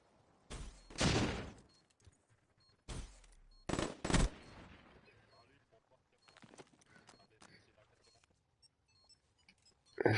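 Gunfire bursts from a Call of Duty Black Ops 3 match, coming as loud, close volleys separated by quieter stretches with small clicks and game noise, followed by a final burst at the end.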